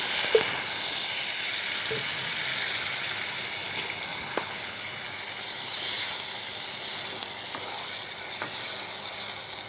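Kechki fish curry (chorchori) sizzles loudly and steadily in a pan after broth is poured in, a bright continuous hiss with a few soft utensil clicks scattered through, no voices.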